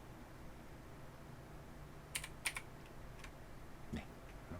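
A few quiet, scattered keystrokes on a computer keyboard over a faint room hiss, with small clicks clustered in the middle.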